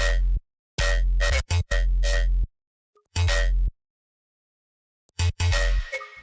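Bass synth in Ableton with its parallel reverb switched off, playing short punchy bursts in a rhythmic pattern, loud and dry with abrupt stops and gaps of silence between phrases.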